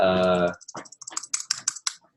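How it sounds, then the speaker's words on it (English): Fingers tap a computer keyboard in a quick, uneven run of light clicks after a brief voice, close and fairly quiet. "you can just start typing in here"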